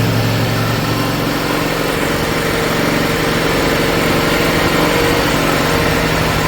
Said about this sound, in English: Let's get a cold start. We're gonna warm it up.